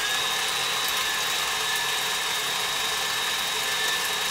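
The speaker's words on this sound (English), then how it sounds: "we're going to turn our KitchenAid back up to 6, and we are going to whisk this." A KitchenAid stand mixer set to speed 6 whisks buttercream, giving a steady, loud, unbroken motor whir with a constant high whine throughout, with no talking over it.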